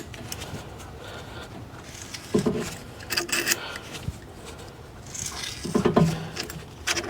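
Rear brake caliper piston on a Ford Mondeo MK3 being wound back in with a tool, giving low-level rubbing and rasping scrapes in short bursts, with louder grinding turns around the middle and end.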